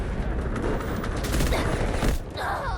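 Delta Force gunfight with PTR-32 rifle fire: a dense, continuous volley of gunshots rattling throughout, loud and sustained, with a brief dip near the end.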